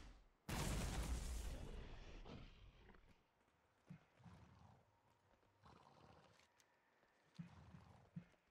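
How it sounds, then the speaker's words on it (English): Horse hooves clip-clop in World of Warcraft, a burst of loud galloping at the start that settles into sparse, fainter footfalls under ambient game sound. "do you hear the horse?"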